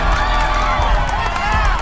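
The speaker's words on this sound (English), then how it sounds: "Crowds cheer while violent crimes play out." A city crowd cheers in a New York street scene from The Amazing Spider-Man 2, a loud, dense wash of shouting and applause held steady for about two seconds.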